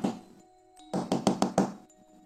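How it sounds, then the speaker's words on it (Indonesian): Someone knocks on a wooden door repeatedly in a spooky story: a quick run of four or five firm, close raps after a quieter stretch, standing alone without voices. "suara ketukan di pintu terdengar berulang kali"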